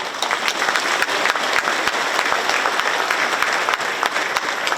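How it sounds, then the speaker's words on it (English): A large audience at an outdoor-style community celebration applauds guerrilla units and veterans with loud, sustained clapping that stays dense and even throughout. "Please give them a round of applause."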